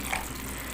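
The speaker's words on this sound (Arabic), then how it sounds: "ندير الماء سخون غير شويه" Hot water poured in a small splash into a tajine already seasoned with turmeric and chili pepper, a brief steady trickling gush with no voices.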